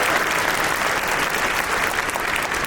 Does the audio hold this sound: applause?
yes